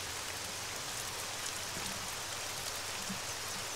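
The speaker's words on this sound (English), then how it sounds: "The rain's on" Steady broadband rain hiss from the ARMA 3 game world, a constant wash of falling rain with no pauses, fairly quiet and heard alone.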